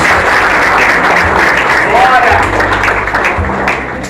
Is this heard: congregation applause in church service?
yes